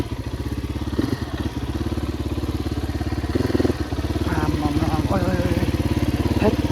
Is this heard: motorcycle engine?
yes